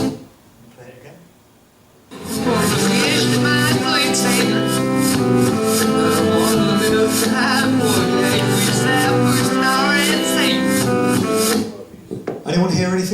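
A song phrase played in reverse, with smeared, backwards-swelling vocals and instruments over a dense, steady band sound for about ten seconds, starting after a short quiet lead-in and cutting off near the end.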